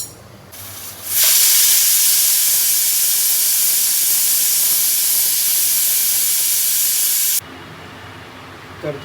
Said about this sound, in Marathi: 8 ते 10 शिट्ट्या देणार आहोत कुकरमध्ये, जेणेकरून हे चांगलं शिजलं जाईल आणि उकडेल.